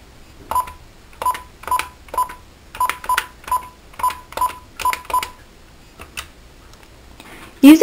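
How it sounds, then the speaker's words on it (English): DTMF tones sound from the keypad of an NEC business phone system (IPKII/SV8100/SV9100) as a string of about a dozen short, crisp beeps in quick, uneven succession, then a few fainter presses and a brief louder burst at the end. "press Speaker and dial 755. Dial a location number 1 through 9."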